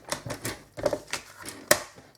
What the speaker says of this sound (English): I'm just going to chop away that excess with my paper trimmer.